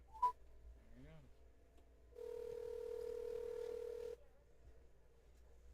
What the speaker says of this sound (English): But all right, let's give Mr. Casey a call